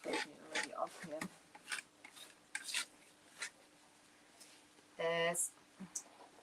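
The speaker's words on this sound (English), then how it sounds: "I'm scraping it already off here." Scraping old finish off a metal file cabinet, a series of short rasping scrapes spread through the moment, with a louder tonal scrape near the end and brief voice sounds in between.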